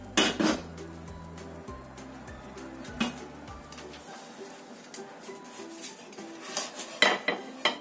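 Cooked omelette pizza made of eggs and white bread being cut in a pan, with metal utensil clinks and scrapes against the pan, a few louder knocks, and no speech.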